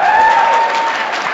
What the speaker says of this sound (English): come on, you can clap with that one